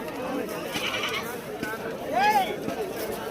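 Goats bleat at a busy livestock market, one clear wavering bleat rising near the middle over a background of crowd chatter and people talking nearby.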